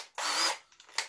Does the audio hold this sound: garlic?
no